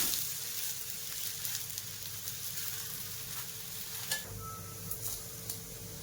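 Dosa made from mixed lentil batter frying on a ghee-greased pan after flipping, a soft steady sizzle with faint crackles, close but quiet.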